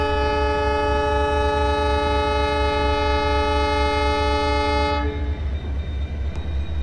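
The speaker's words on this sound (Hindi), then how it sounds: "WTG4 अपने ये वाले हॉर्न बजा दे भाई" A WDG4 diesel locomotive horn in Train Simulator 2023 sounds one long, steady blast for about five seconds over a low engine throb, then cuts off, leaving the engine rumbling alone.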